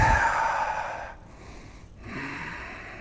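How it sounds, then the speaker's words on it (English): Deep, audible breaths during a strong yoga flow class, a long airy exhale near the start, then quieter, steady breathing after a short lull. "Breath smooth. Breathe."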